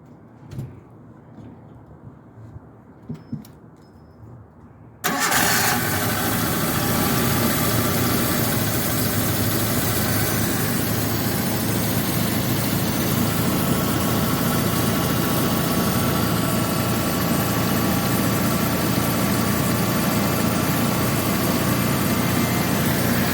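Suzuki Samurai engine with a freshly rebuilt Aisan carburetor turns over and fires on a cold start, then settles into a steady, loud, continuous idle close by with no talk.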